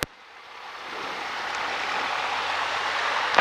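A Cessna 152 lines up on a runway, its piston engine building into a steady, rising roar with a broad rushing hiss and a low drone, close and loud throughout.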